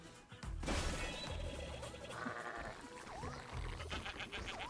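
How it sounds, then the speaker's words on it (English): Sheep bleat in the video game Bang-On Balls Chronicles, with wavering cries over a busy game soundscape of music, thuds and crashes, at moderate level. "Come here, sheep."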